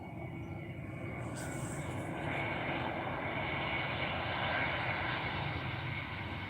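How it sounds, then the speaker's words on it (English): A South African Airways Airbus A320 in Star Alliance livery rumbles steadily at OR Tambo International Airport, its engine roar a continuous, moderately distant drone that swells slightly toward the end. "Oh, South African Airways. Star Alliance Livery. A320."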